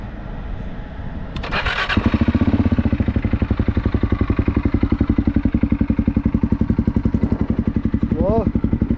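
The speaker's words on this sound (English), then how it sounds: "You can see this is the factory exhaust, and I'm gonna start it right now." A Segway Snarler AT5L ATV on its factory exhaust cranks briefly, catches with a loud bark, then settles into a fast, even, throbbing idle, close and steady, with a short blip of revs near the end.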